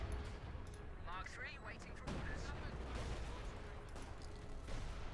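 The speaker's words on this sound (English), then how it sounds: "House collapses under British artillery fire there from the 25-pounder guns" British 25-pounder guns fire on a house in the Company of Heroes 2 battle game until it collapses. Booms and crashes land in a dense, rumbling mix under a commentator's voice.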